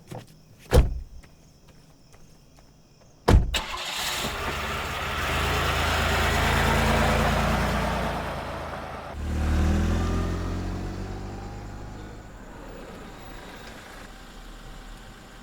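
A car: two sharp door clunks, then the engine starts and settles into a steady rumble that swells again as the vehicle pulls away and gradually fades, with no talking.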